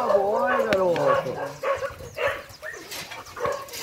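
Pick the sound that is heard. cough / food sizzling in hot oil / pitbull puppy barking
pitbull puppy barking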